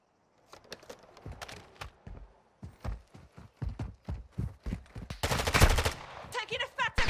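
A rapid series of sharp gunshots, some in quick bursts, grows denser and louder toward the end, with faint voices nearby.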